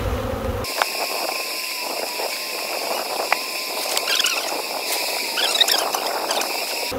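Honeybees swarm on an apple tree, a dense steady buzzing hum outdoors with individual bees passing close by now and then, fairly loud and continuous without speech.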